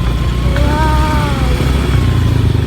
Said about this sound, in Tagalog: So, among gisakyan ngayon kay motor ni Jody Atan.